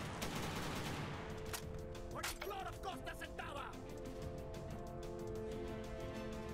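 Gunfire crackles in a Secret Service mission of an Xbox 360 game: a rapid burst of shots at first, then a few sharper cracks and a metallic clatter, with a steady hum of game sound beneath.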